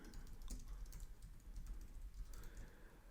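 Quiet, steady clicking of keys on a computer keyboard, a run of fast, irregular taps close by with no talking.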